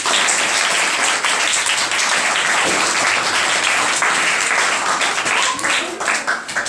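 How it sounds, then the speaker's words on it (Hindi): Schoolchildren in a classroom clap together in a sustained, dense burst of applause that fades slightly at the end. "मनसा के लिए ताली बजाएंगे।"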